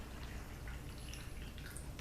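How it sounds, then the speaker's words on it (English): Water streams steadily into a bottle of homemade household cleaner already mixed with Dawn dish soap, giving a soft, continuous, fairly quiet liquid hiss with faint drip-like detail and no talk. "you just fill it up the rest of the way with water"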